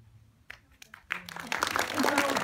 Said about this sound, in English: Now, Ethan, everyone's going to clap you now as you go and sit back down.